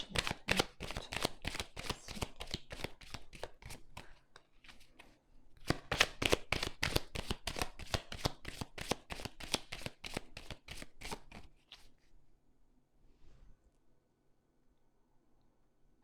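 Tarot cards shuffled in steady rapid riffles for about twelve seconds, with a brief pause near the four-second mark, then fading to near silence.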